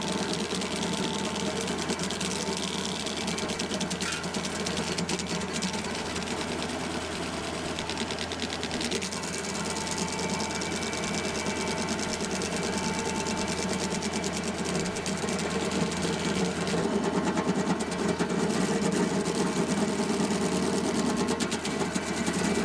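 A stump grinder chews into a tree stump outdoors, its engine droning loudly and continuously with a rough, grinding buzz that surges slightly as the cutter bites deeper.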